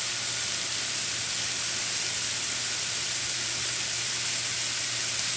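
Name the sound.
vegetables sizzling while cooking for vegan fajitas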